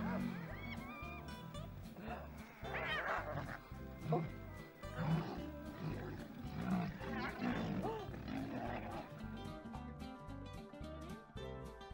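A lion roars and snarls over a dense, steady backing of music, the growls rising and falling in several loud bursts across the stretch.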